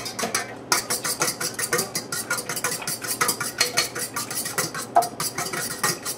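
An egg is beaten hard in a bowl for cornbread, making a quick, steady rhythm of utensil clicks and scrapes against the dish, close and continuous with no talking.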